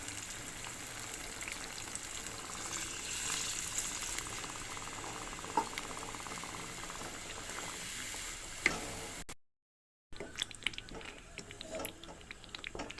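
Cashew curry with chili powder simmers in a pan after water is added, a steady soft bubbling and faint sizzle that cuts out briefly, then resumes with a few sharper pops.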